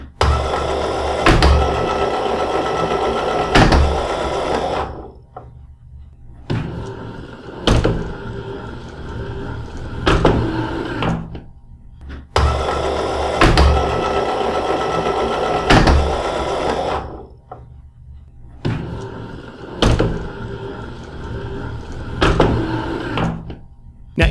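Logitech G27 and Driving Force GT force feedback steering wheels clack and thunk in repeated bursts, their motors whirring and rattling in sharp, loud knocks with brief quiet gaps between rounds.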